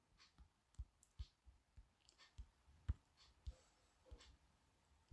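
Light, quiet taps land on a phone screen while a website address is typed in, as a string of soft, irregular clicks spaced a fraction of a second apart, with no talk.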